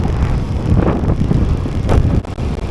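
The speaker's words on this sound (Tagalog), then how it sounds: "Lakas ng hangin." Strong wind buffets the microphone outdoors in a steady, loud rumbling roar with gusty surges and a brief dip near the end, with no talking.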